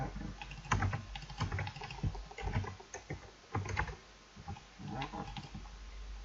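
Quiet, irregular keystrokes as C++ code is typed on a computer keyboard, close up and alone, with brief pauses between runs of clicking.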